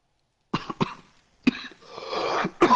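A person coughs in several sharp, close bursts, with a rougher, longer hacking cough in the middle and a final cough at the end, separated by short silences.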